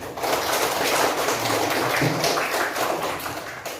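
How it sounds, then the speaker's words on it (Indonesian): Elementary schoolchildren in a combined third- and fourth-grade classroom clap together in a dense, steady patter that fills the room throughout. "Beri tepuk tangan dulu"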